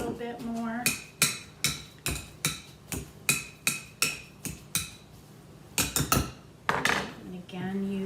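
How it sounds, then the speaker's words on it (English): Boiled potatoes being mashed with a little broth in a pot, a masher thumping and clanking against the metal in a steady run of about a dozen sharp strikes, close and loud, with brief voice sounds near the start and end. "use this and just bring in what's around the edges so we make sure we get everything nice and mashed."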